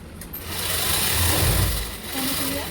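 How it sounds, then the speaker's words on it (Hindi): A sewing machine stitching a red lined round-neck blouse runs in one continuous, close mechanical whir that swells in the middle and eases off near the end, with no talk over it. "अब इस पर बॉर्डर लगेगा इसलिए मैं सिलाई वाला बना रही हूँ"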